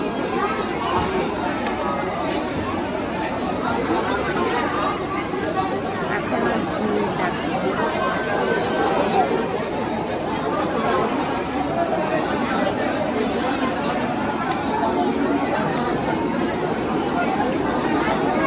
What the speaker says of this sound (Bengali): এখনো ভিড় দেখো।